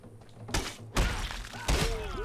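Heavy kicks landing on an enemy in the kung fu game 9 Monkeys of Shaolin, three dull thuds with a crunching edge, spaced about half a second apart, with no one talking.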